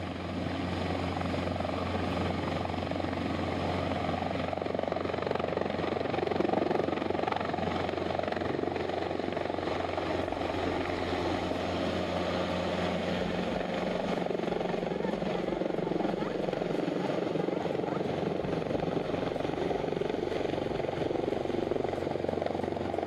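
Helicopters roar continuously and loud over a rural village, a steady rotor and engine drone filling the whole stretch with faint voices beneath.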